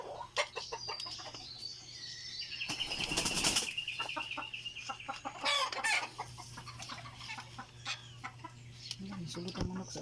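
Chickens cluck in short bursts close by on a farm, with a flurry of flapping wings and a rooster-like call mixed in over a low steady hum.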